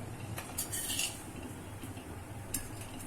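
Vagharelī rotli being served from a pan onto a plate, with faint scraping and light clinks of a utensil against metal and dishes, a few sharper taps standing out in a quiet room.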